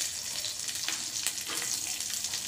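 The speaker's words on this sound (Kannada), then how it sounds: "ಈಗ ಬೆಳ್ಳುಳ್ಳಿ, ಒಗ್ಗರಣೆ ಸೊಪ್ಪು ಹಾಕಿದ್ದೀನಿ, ಮತ್ತು ಆನಿಯನ್ ಫ್ರೈ ಮಾಡುವ" Onion frying in hot oil with garlic, curry leaves and mustard seeds, giving a loud, steady sizzle with stirring scrapes and crackles throughout.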